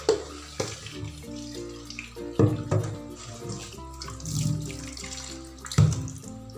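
Duck meat is rinsed under running tap water in a kitchen sink while preparing Minang-style green chili duck, a steady splashing stream with a few louder surges of water, and no talking.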